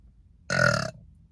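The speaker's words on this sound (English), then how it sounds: "I'm so hungry that I had to burp because it's empty in there." A single loud, drawn-out burp, close by, rising out of near silence and fading quickly.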